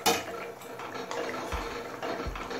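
Fish going into a cooking pan for a curry with yam seeds, heard as clattering metal pan knocks and scrapes with splashy wet impacts, close and fairly loud, with no talking.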